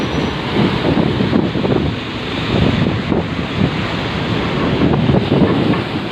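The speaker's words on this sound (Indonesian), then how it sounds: "ombaknya mulai datang, goyang-goyang kapalnya." Ocean waves crash and surge around a ship at Merak harbour, with heavy wind buffeting the microphone; a loud, continuous roar with no talking.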